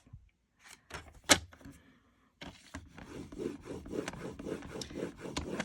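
Cardstock is scored with a tool on a 6 1/2 by 5 inch piece, producing soft scraping and rubbing strokes, a few separate scrapes followed by a steadier rhythmic rasp, quiet and close.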